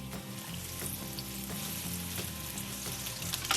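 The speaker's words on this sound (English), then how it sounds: "You want to hear the sizzle." Chicken pieces sizzling and frying in a hot skillet, a loud continuous crackle and hiss with bubbling oil, heard up close and alone without talk.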